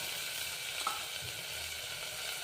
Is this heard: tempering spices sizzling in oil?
yes